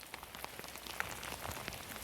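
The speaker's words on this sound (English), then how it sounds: "Well, it is still tipping it down with rain here" Heavy rain pours steadily onto surfaces outdoors during a lunchtime news report in Stalybridge, a dense, continuous hiss with scattered louder drops and splashes, no voices over it.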